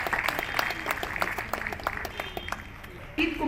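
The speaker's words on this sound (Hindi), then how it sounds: "तालियां बजती रहनी चाहिए" An audience at an SBI Mudra loan scheme program in a Jammu zonal office claps steadily and evenly, with a brief louder burst near the end.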